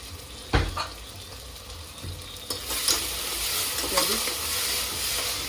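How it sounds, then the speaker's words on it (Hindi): Spices sizzle and fry in a pan for yakhni pulao while a spoon stirs them, bringing occasional scraping knocks over a steady crackling hiss close to the mic. "इसको भी अच्छे से भूनूंगी"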